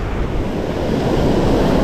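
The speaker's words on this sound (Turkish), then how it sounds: "Burada dalgalar biraz daha yumuşadı." Sea waves washing steadily onto the shore at a lüfer spin-fishing spot, a continuous broadband surf roar with wind noise on the microphone, loud and close throughout with no voices.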